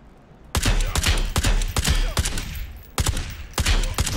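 Sniper fire cracks out in a shooter game, a series of about eight loud, sharp shots at uneven intervals, each with a short echoing tail, no talk over them.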